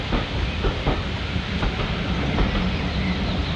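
Steam train arriving at Goathland Station, a steady broad hiss and rumble with faint rhythmic clicks of wheels on track, continuous and fairly close with no talking.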